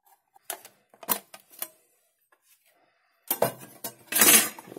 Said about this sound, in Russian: Сейчас мы даже его вскроем, посмотрим, что у нас внутри находится.